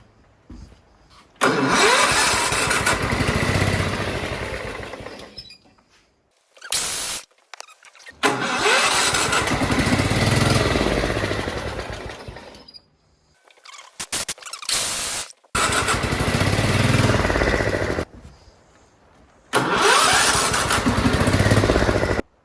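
A John Deere STX 38 lawn tractor engine cranks and fires, then runs in loud bursts that stop and restart several times over about twenty seconds, separated by short silences.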